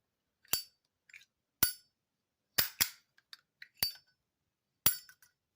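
A street brass Zippo lighter, its clear coat still on, snaps its lid open and shut again and again, giving about six crisp, isolated metallic clinks with small rattles in between and no talk.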